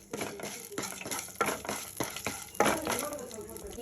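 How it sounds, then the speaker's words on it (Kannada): Mustard seeds, cumin, chana dal and urad dal sizzle in hot oil for a greens stir-fry, with irregular crackling pops and repeated spoon scrapes against the pan, fairly close and loud. "ಈಗ ಇದಕ್ಕೆ ಎಣ್ಣೆ ಕಾದ್ಮೇಲೆ ಸಾಸಿವೆ, ಜೀರಿಗೆ, ಕಡಲೆಬೇಳೆ, ಉದ್ದಿನಬೇಳೆ ಹಾಕ್ತಾ ಇದ್ದೀನಿ ಪಲ್ಯಕ್ಕೆ."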